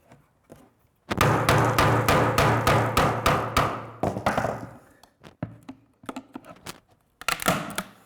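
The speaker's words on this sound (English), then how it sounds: "You can hear the woofer just prying off" A woofer speaker is pried out of the glued ring in a 2018 BMW X3 door: a burst of rapid cracking, snapping clicks for about three seconds, then scattered taps and knocks nearby.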